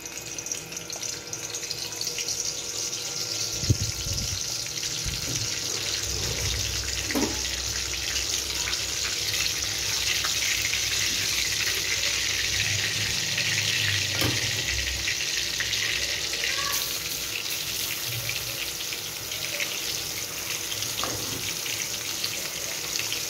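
Ground masala paste sizzles and fries in oil in a kadhai, a steady bright hiss running throughout, with occasional soft clanks of stirring.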